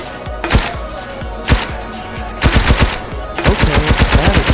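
Gunfire in the video game Animosity arrives as sharp single shots, then faster bursts of rapid repeated fire, loud and close, with no talking.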